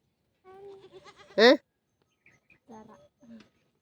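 One loud, short goat bleat sounds close by, with people talking quietly before and after it.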